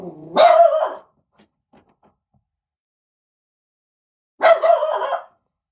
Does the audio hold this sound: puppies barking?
yes